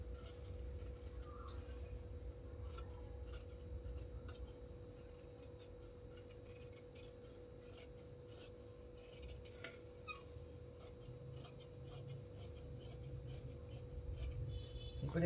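Scissors cutting through blouse fabric, a steady run of soft snips and rasping shears strokes close by, repeating irregularly over a low constant hum.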